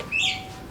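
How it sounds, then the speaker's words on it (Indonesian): A pet lovebird gives a single short, high chirp, fairly close and clear. "burung yang saya beli ini"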